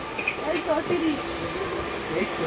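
Train rumbling and clattering along with a faint squeal, while people talk nearby over the steady rail noise.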